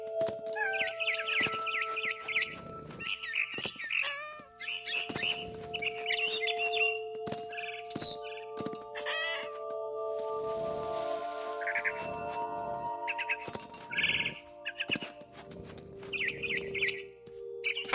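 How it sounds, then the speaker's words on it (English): Barn swallow chirping in What Remains of Edith Finch, bright high twittering calls repeating in quick bursts throughout, layered over soft game ambience and tonal background sounds, with no talking. "Then I heard chirping outside my window. It was a barn swallow going back to her nest."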